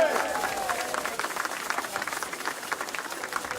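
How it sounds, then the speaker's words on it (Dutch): An audience at a parade-style contest in Genhout breaks into steady applause, a dense patter of many hands clapping at moderate distance that holds evenly for a few seconds without fading. "Applaus voor Tij."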